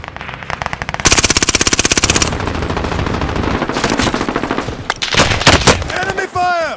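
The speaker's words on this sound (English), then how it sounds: "Enemy fire!" Enemy gunfire in Call of Duty Warzone: a long, rapid automatic burst fires close and loud, followed by further sharp bursts of shots, with a voice briefly heard among them.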